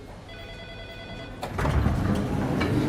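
A telephone rings in an office, a steady electronic tone that stops abruptly and gives way to louder room noise and movement.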